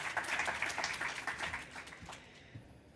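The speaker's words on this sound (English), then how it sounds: "Let's give our speakers a big warm round of applause" Applause from a seated audience welcoming speakers on an art-world technology panel, a dense wash of many hands clapping at moderate distance that thins out and fades over a few seconds, with no voices over it.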